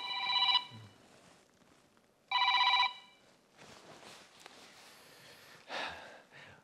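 A phone rings in two short electronic bursts a couple of seconds apart, fairly loud, followed by faint breathing and rustling.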